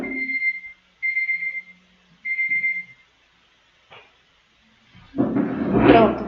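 Alarm beeping in a room, three steady tones each under a second long, spaced evenly, followed by a quiet thump and then a voice speaking as the alarm stops.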